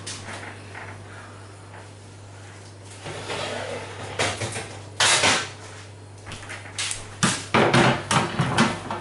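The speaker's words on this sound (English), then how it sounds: "Now tip the vegetables into the pan with the tomatoes." Cooked vegetables tipped into a large pan holding six tins of chopped tomatoes, with clattering pan and utensil knocks and soft wet slides building in the second half, close and fairly loud against a steady low hum.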